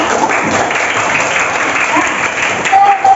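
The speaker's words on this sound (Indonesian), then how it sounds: "Tepuk tangan untuk kita semua" A primary school classroom of children breaks into steady, loud applause that continues throughout, with a brief voice near the end.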